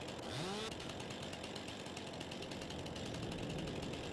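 A chainsaw cutting a tree in the Farming Simulator 22 game runs loud and steady, with a rising pitch sweep at the start settling into a continuous buzzing drone throughout.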